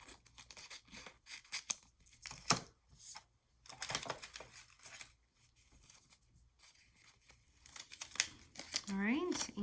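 Scissors snip paper cut-outs for a junk journal page. The snips come as short, crisp, irregular bursts with light paper rustling, and a quiet voice comes and goes between them.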